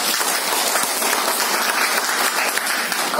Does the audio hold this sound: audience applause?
yes